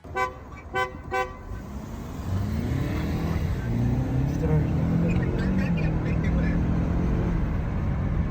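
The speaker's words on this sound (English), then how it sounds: "So here is a drag race. We have standing still start and rolling start." A Chery Arizzo 8 hybrid and a Chevrolet Malibu line up for a drag race, with a few short horn toots first, then a steady rising engine roar as the cars accelerate. A voice talks over it.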